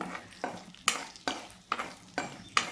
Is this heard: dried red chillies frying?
yes